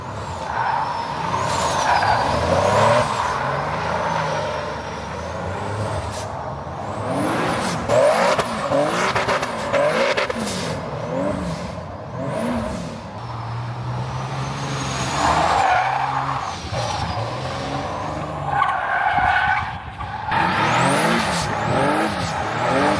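A turbocharged Nissan 370Z with a mid-mount turbo drifting, with repeated loud tire squeals and skidding over a revving engine, the squeals swooping up and down in long passes as the car slides about.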